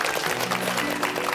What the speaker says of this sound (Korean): 요거에 아니 일단 박수